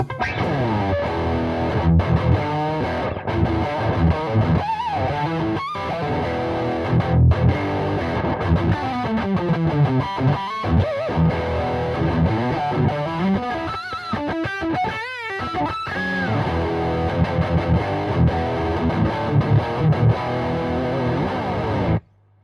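Ibanez GSA electric guitar played through an extremely high-output pickup with heavy distortion, thick sustained chords and bends ringing out loud and steady before cutting off abruptly at the end.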